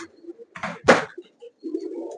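Pigeons in a 20-by-20-foot loft in Palakkad, a few close, throaty coos and bird calls, with brief wingbeat flutters and quiet gaps between them.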